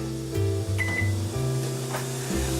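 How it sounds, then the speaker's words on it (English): A microwave oven hums steadily while cooking cauliflower, a continuous low drone with a brief tonal beep-like sound partway through. "I have my microwave cauliflower in the microwave."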